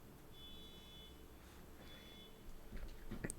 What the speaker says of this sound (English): Beeping sound is a car alarm